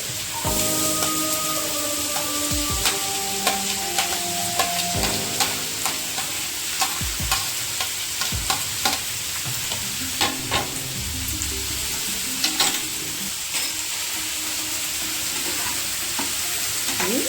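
Chopped onions sizzle in hot oil in a pan while a spoon stirs and scrapes them in repeated, sharp clicks and knocks over a steady frying hiss, close and moderately loud, with no talking.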